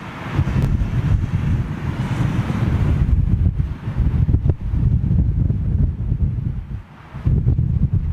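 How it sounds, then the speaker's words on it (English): Strong wind buffets the microphone at an airport, a loud, continuous roaring rush that swells and dips with the gusts, with no voices over it. "here comes that wind, guys"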